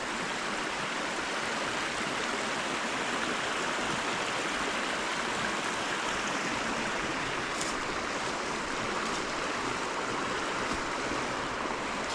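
Water in a burn (small stream) flowing steadily near a stone bridge at a castle sluice gate, a continuous broadband rushing wash heard close and alone, with no talk.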